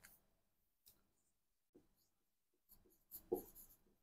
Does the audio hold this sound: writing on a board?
yes